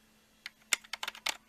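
Typing on a Macintosh SE keyboard: a short burst of about eight crisp key clicks in an uneven rhythm, close and fairly clear over a faint steady hum, no speech.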